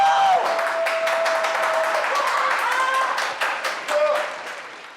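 A crowd claps continuously, a dense patter of hands with a few louder close claps, while voices chatter over it.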